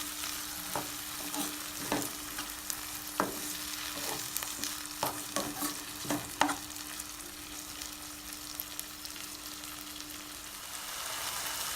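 Chopped tomatoes frying in a pan for a green peas masala, a steady sizzle with irregular scraping clicks of a spoon stirring through them, close and continuous with no voices.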